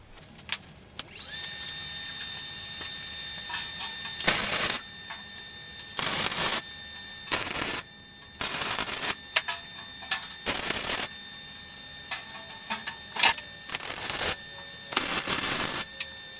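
Tack welding steel tubing for a Cyclops body: a series of short, loud, broadband crackling bursts, about eight of them, each lasting under a second and separated by pauses, close by, with no speech.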